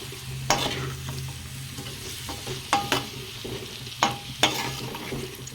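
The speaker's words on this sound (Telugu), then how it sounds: "చూసారా ఫ్రై అవుతున్నాయి" Mutton and tomatoes fry in a pan with a soft steady sizzle, broken by several sharp scraping stirs of a spatula at uneven intervals, close up and with no talking.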